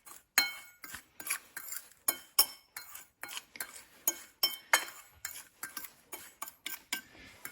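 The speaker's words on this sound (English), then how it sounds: "we mix it all up to make sure that it's all spread evenly in the breadcrumbs" A utensil scrapes and clinks against a bowl while mixing spices into breadcrumbs, giving a steady rhythm of sharp, close taps and stirs with no voices.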